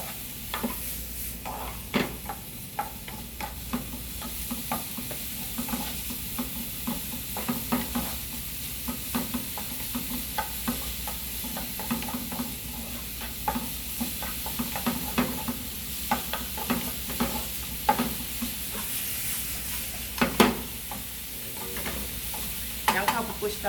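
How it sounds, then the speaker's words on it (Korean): Garlic and onion sauté in a pan over high heat, a steady close sizzle with frequent scraping and stirring clicks of a utensil against the pan throughout. "마늘 조금 볶으시고 바로 양파."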